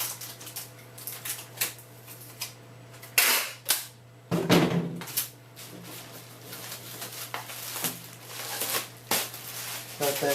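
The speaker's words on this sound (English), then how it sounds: "wrap these up in the bubble wrap. Get a little piece of tape" Crackling plastic bubble wrap folded around a pair of shoes being packed for shipping, with sharp snaps and rustles and a few quick rips of tape pulled off a roll, close and busy throughout.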